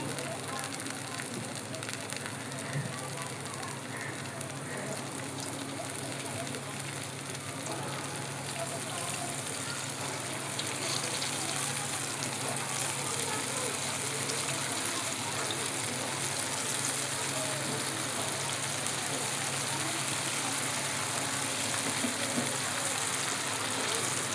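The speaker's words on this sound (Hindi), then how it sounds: "अब मैं डालूँगी इसमें मेंदू वड़े के लिए बैटर।" Medu vada batter frying in hot oil over medium-low heat, a steady dense crackling sizzle that runs continuously and grows slightly fuller partway through, close and fairly loud.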